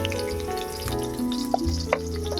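Chopped onion goes into hot mustard oil in a pan and sizzles steadily and close, with a few sharper crackles and faint clinks from the pan.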